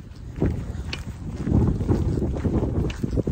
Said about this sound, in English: As you can probably tell, the wind's got up a little bit.